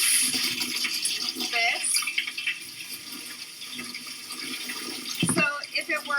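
Running water rinses a cyanotype print during a fine-arts photography session, a continuous splash and flow heard close by under speech, with a louder burst of water near the end.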